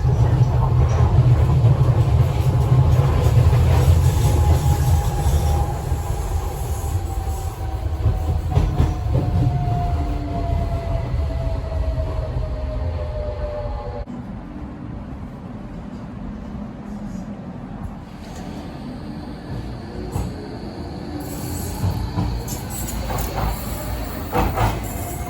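A train running from Lewisham to Elverson Road gives a steady close rumble with hiss and clickety-clack from the wheels, plus a thin rising whine. It grows quieter about halfway through, then continues as a lower, smoother ride.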